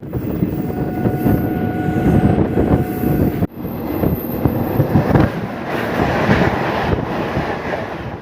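Haldibari Superfast Express rumbling along at speed, a steady loud roar of wheels and carriage noise with wind buffeting, a brief dip midway before the rolling din resumes.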